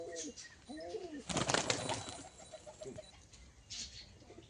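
Pigeons coo softly in short rolling phrases, with a burst of wing flapping in the middle, fairly close and otherwise quiet.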